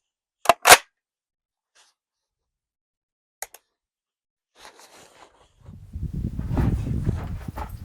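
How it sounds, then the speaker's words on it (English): Rifle shots from a SCAR fired at a target about 650 yards downrange, two sharp cracks close together near the start, then a lone faint shot, followed by rising wind rumble. "And just start shooting."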